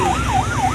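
A loud wailing siren on a patrol vessel at sea rises and falls in steady sweeps, close and continuous over a low engine drone.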